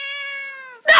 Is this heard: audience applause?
no